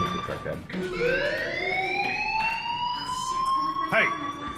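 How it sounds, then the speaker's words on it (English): A fire alarm in the video game Life is Strange rings as a steady, loud electronic wail that sweeps upward in pitch and holds, with faint background game sounds underneath. "Hey, do you hear that fire alarm?"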